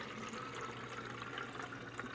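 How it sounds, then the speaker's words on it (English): Leftover liquid pours back into the bottle of an inexpensive Amazon foam cannon, making a steady, continuous gurgling splash that lasts the whole moment at low volume with no talking. "So we're gonna pour that back in to my cannon."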